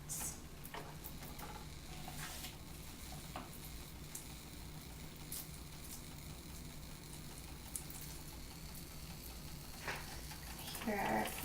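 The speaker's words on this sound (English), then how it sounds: "for our French toast sizzling away." French toast frying in a hot pan gives a steady, close crackling sizzle that runs unbroken throughout, with a brief clatter of stirring or handling near the end.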